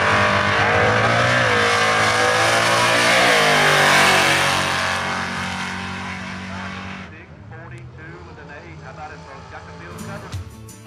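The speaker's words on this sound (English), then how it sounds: "Micah Monteleone, 281 cubic inches of modular non-push rod engine here." A nitrous-fed 1996 Ford Mustang GT with a 281-cubic-inch 4.6 2V modular engine revs hard and loud, holding a high rising roar before dropping off to a lower, rougher idle near the end.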